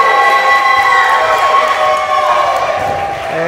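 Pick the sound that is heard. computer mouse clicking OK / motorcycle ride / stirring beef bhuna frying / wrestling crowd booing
wrestling crowd booing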